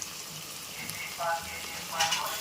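Ground masala paste is dropped into hot oil for mutton biryani, making short, hissing sizzle bursts over a low, continuous frying crackle, heard close up.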